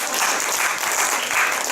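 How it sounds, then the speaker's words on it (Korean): A church teachers' college audience claps for parents, teachers and young adults, a loud, dense, even burst of applause from a crowd filling the whole moment. "이분들은 특별히 한 박수 한번 쳐주세요"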